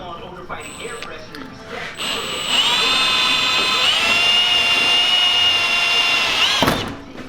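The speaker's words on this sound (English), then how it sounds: "we'll drill through the wing into these and then rivet them into there" A few brief buzzes, then a power drill whines loudly and steadily for about four seconds while drilling through a Mustang's rear wing, its pitch stepping up once midway, then cutting out.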